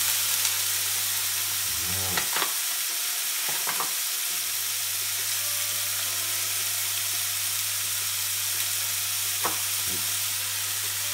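Ground meat miso and cabbage fry in a frying pan with a steady bright sizzle throughout, broken by a few clinks and scrapes of stirring.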